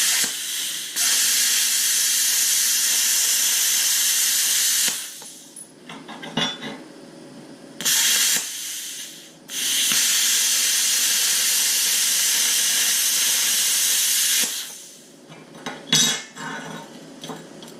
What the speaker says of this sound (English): Plasma cutter, I've got it maxed out.